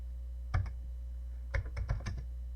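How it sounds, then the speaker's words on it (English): A Commodore 64 keyboard is typed on in two short bursts of crisp, close keystroke clicks separated by a pause, over a steady low electrical hum. "Because I'm using a Commodore 64 keyboard for programming the pet."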